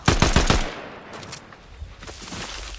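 Rapid automatic gunfire in a video game opens with a loud burst of closely spaced shots, then thins to a few scattered cracks over low background noise.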